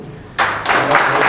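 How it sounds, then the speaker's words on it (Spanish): An audience at a neighbourhood community talk in Cotocollao bursts into loud, close clapping after a brief quiet moment, the applause staying dense and steady to the end. "vamos a recibirle con un fuerte aplauso a nuestro vecino"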